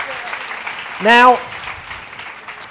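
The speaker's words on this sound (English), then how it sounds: "can we have a big round of applause for Rosie there?" A lecture audience applauds Rosie at a science talk on forces and pressure. The clapping runs steadily throughout, with a brief loud, tonal squeal rising through it around the middle.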